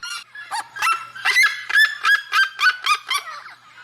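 A red-legged seriema calls in a loud series of about ten harsh, yelping honks. The notes come in quick rhythm and build in strength, close and alone.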